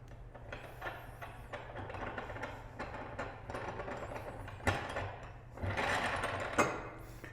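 A Hunterworks spring compressor being cranked on the clutch of a 2017-2021 Can-Am Maverick X3 during a Dalton clutch kit install, making a continuous whirring, ratcheting mechanical run up close with a few louder metallic knocks near the end.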